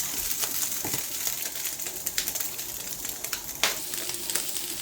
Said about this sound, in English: Mincemeat will take a little bit of time for it to turn brown the way I want it to be